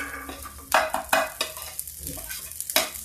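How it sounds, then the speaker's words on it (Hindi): Green peas are tipped into hot oil with cumin in a pan, setting off a sizzle broken by several sharp clanks and scrapes of stirring up close. "अब देखिए इसमें हम डाल देते हैं मटर।"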